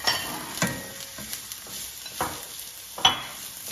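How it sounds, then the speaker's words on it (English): Onion fries in a pan under a faint background sizzle, punctuated by several distinct scrapes and taps of a stirring utensil spaced irregularly, close and without speech. "And then you're gonna fry your onion until it's soft."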